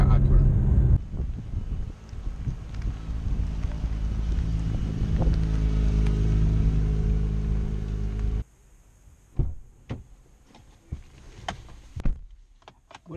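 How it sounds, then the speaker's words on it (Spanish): A 2018 Acura RLX Sport Hybrid sedan driving near Malibu, California, with a steady engine and road rumble mixed with wind noise, then a quieter stretch of scattered knocks and bumps; speech is present. "Y ahora pasamos al auto que nos trajo para esta presentación, que es el Acura RLX Sports Hybrid."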